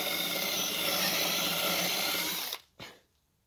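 Drill bit boring steadily into a hard drive, a loud continuous whining grind for about two and a half seconds that cuts off abruptly, followed by one short burst and silence.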